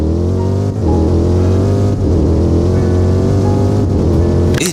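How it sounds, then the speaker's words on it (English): A supercar engine revs hard and loud in a video game set in Southwest Florida, with a deep sustained drone, brief dips at gear shifts and the pitch climbing each time. "the sound on this car is actually insane."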